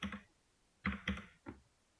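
A few soft keystrokes on a computer keyboard during a Java programming lesson: a quick pair of taps, a short pause, then three more close together, quiet and isolated.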